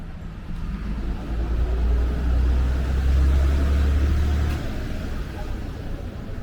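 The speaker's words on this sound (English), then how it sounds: "taxis and the buses coming and going" Taxis and buses come and go near Hirakatashi Station in Osaka on a sunny day, a steady low rumble of traffic swelling as one vehicle passes close, then fading back.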